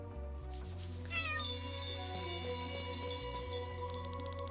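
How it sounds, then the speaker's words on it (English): A game cat in Chained Echoes gives a few clear meows, layered over steady in-game background music with no talking. "Kitty."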